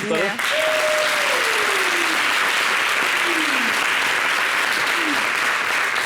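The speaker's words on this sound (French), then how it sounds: "Merci pour les applaudissements, excès d'applaudissements, extra applaudissements sur ma gauche" Studio audience applause fills a French-language television show, a loud, continuous wash of clapping while a voice speaks over it with a few falling intonations.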